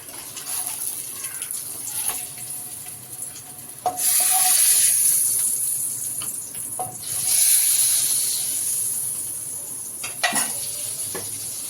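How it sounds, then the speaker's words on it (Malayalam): Kerala egg curry with shelled boiled eggs is stirred in a pan: a steady bubbling sizzle swells into two louder, hissing stretches, with light scrapes and taps of the spoon against the pan and no talking. "ഇനി നന്നായിട്ട് ഇളക്കി കൊടുക്കുക."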